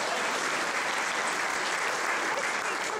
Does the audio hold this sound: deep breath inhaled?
no